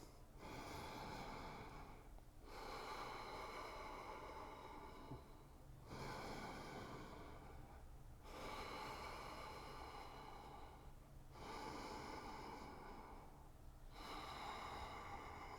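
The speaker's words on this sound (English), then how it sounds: "Can you take 3 more breaths?" Slow, deep breaths drawn during a yoga twist, heard close and clear: long audible inhales and exhales in an even rhythm, about five cycles, with no speech.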